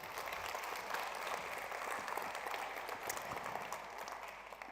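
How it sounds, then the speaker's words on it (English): A conference audience applauds the event technicians, a steady, dense patter of many hands clapping that fills the room at even volume for several seconds before easing slightly at the end. "we can give a big round of applause to our technicians here as well"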